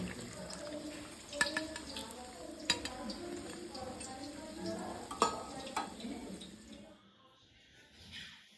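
Coriander-leaf fritters frying in oil, a close sizzle with scattered clicks and scrapes of a utensil, which fade into near silence toward the end.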